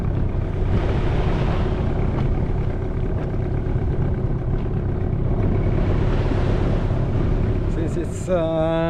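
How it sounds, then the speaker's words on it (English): Waves break and wash continuously on a steep beach along a Pacific island shore, a loud, steady roar of surf with wind buffeting the microphone throughout and no talk. "It's so much waves and pretty steep beach."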